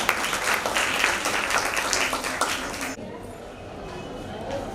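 Audience applause welcoming performers at an annual cultural program, a dense round of clapping for about three seconds that cuts off abruptly, leaving quieter room tone with faint talk.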